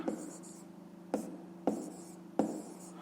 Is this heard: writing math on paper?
yes